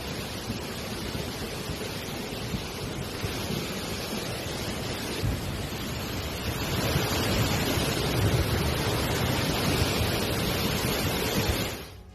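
Floodwater rushing through residential streets in Guerrero state, Mexico, a dense, continuous roar of turbulent water with wind-like rumble that swells louder midway and holds steady.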